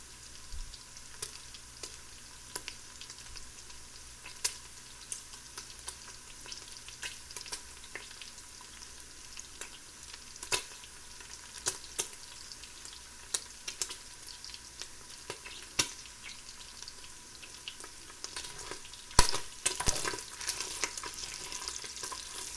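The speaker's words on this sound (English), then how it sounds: "any recipe that starts with frying bacon is" Bacon sizzles steadily in a pan as the first step of a pork stew, a close continuous crackling hiss dotted with sharp pops and occasional stirring clicks, with no one talking.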